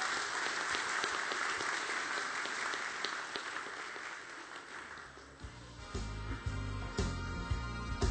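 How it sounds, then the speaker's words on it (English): A hall audience applauds at the 2013 Golden Shears senior shearing final, a sustained wash of clapping for about five seconds that fades as tonal sounds take over. "please give them a round of applause"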